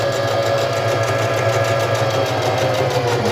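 A Facilita Pro sewing machine stitches the second side of a buttonhole in reverse, with a steady, close, continuous motor whir and a rapid needle rhythm.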